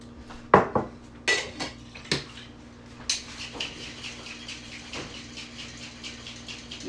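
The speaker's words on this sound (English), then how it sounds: "I am going to do a dry shake before I add the ice in, just to start to get that egg nice and whipped up" A pisco sour egg mix is dry-shaken in a cocktail shaker without ice: a few sharp metallic clanks at first, then a quick rhythmic rattling that carries on to the end, close and alone.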